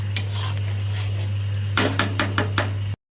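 Metal spoon scraping and clanking in a pan of Bengali prawn malai curry, then a series of sharp metallic knocks as a lid is set on, over a steady low hum from the stove.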